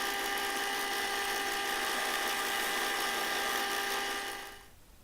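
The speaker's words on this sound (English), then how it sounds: "Also drilling with a slightly bigger size so you can countersink the heads of the screws" A power drill bores countersink holes for screws while building a simple tool holder, giving a steady, high, whining spin that holds evenly for several seconds, then winds down and stops.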